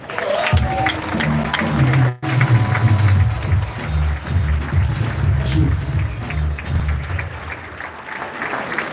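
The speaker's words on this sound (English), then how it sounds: "If you're clapping, you can do better." An audience applauds at a real estate seminar on Lagos property, dense sustained clapping from a crowd with a brief cut near the start and a voice speaking over part of it.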